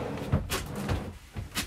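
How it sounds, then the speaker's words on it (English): A drawer sliding out of the bed base in a 2021 Airstream Flying Cloud 30FB trailer, with close, soft scraping and a few dull knocks and bumps as it moves. "This drawer slides out."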